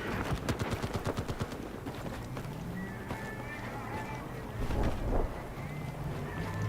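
Machine gun fire in a Battlefield game opens with a fast, rhythmic burst of shots, then drops to scattered distant pops under wind and battle ambience, with a louder rumble near the end.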